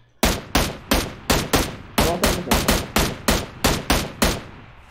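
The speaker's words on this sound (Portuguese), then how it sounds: "tô atirando em você" Gunfire in PUBG Lite: a rapid series of about fifteen sharp, loud shots in an uneven rhythm, each with a short decaying tail, with no talk over them.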